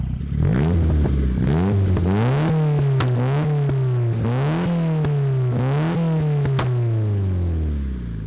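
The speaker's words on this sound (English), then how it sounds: "Just going to let the car warm up, and then we'll do a few little revs" A Nissan Pulsar GTI-R engine revs after warming up, its pitch climbing and dropping in a run of short, close, loud bursts over a steady idle.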